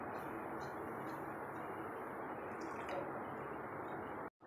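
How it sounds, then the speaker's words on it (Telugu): Water trickles into gram flour batter as it is stirred for khaman dhokla, a faint continuous pour and soft liquid dripping up close, cutting off abruptly at the end. "నీళ్ళు పోసుకుంటూ కలుపుకోవాలి."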